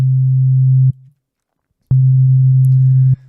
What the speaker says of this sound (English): Okay, now we are seeing a sine wave.